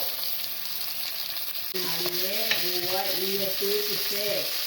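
Fish, added to onions already frying in hot oil, crackles under a steady close sizzle, while short whistling or squeaking tones rise over the hiss partway through.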